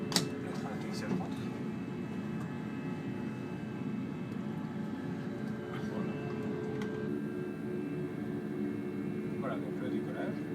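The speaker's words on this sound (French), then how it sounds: "Voilà, donc le décollage." A steady, even drone of Airbus A320 jet engines fills a flight simulator during takeoff, a constant low roar with faint clicks on top.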